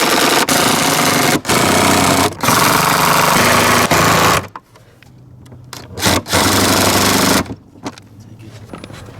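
An impact driver sinking self-tapping screws into plastic on a Polaris 330 Trailboss, loud sustained rattling bursts broken by brief pauses, then quieter gaps and a few shorter bursts.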